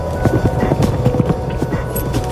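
Several horses gallop across sand dunes in Jericoacoara, Brazil, their hoofbeats thudding in quick, uneven rhythm at close range over a windy outdoor background.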